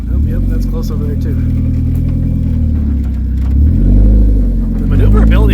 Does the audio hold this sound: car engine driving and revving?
yes